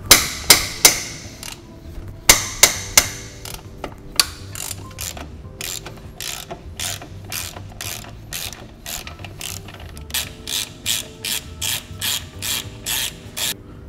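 A ratchet loosens a 16 mm nut on a BMW power steering rack with loud, close clicking strokes in rapid bursts, mixed with a few sharp metallic knocks.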